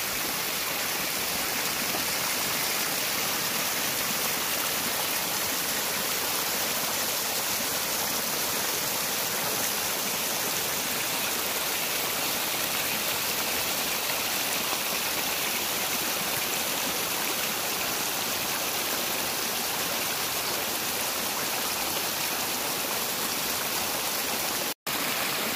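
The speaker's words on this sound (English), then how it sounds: "Where the trail goes by Berkeley Creek for the first time." Berkeley Creek rushes beside a trail at Mount Rainier, a loud, continuous broadband roar of flowing water, close and steady throughout with no voices.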